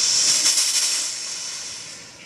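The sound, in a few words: EZ 90 gravity feed steam iron releasing steam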